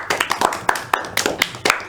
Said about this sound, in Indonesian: Tepuk tangan buat Mas Farhan